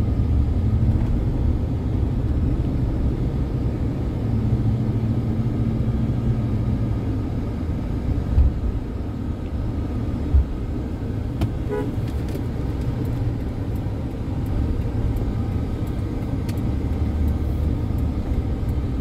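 Car driving through the East Legon Hills neighbourhood of Ghana, a steady low engine and road rumble continuing throughout, with a couple of brief knocks partway through and no talking.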